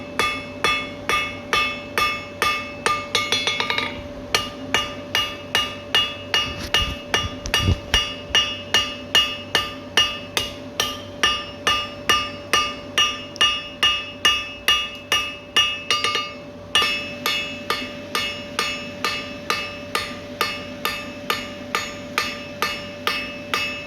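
A blacksmith hammers hot steel on an anvil while forging scroll tongs. Dozens of sharp, ringing, evenly paced blows sound up close, with brief pauses between runs of strikes.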